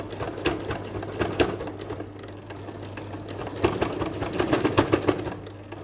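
A sewing machine runs in steady stretches while stitching a skirt hem, its rapid mechanical whir rising and falling with short pauses, close and moderately loud over a low constant hum.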